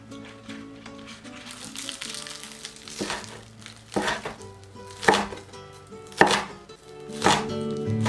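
A knife chops scallions on a board, about six crisp, evenly spaced cuts standing out clearly over soft background music, with no talking.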